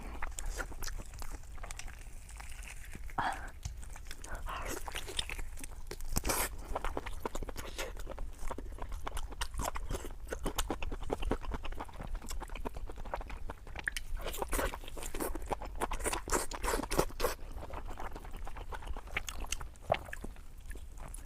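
Close, crunchy biting and chewing on lamb ribs, a steady run of sharp bites, gnawing and mouth sounds over about twenty seconds, with no talking.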